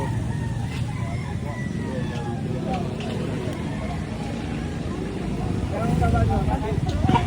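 Roosters crow and fowl cluck amid a busy Lipa market crowd in the Philippines, several crows rising over steady chatter and traffic noise, with people talking throughout.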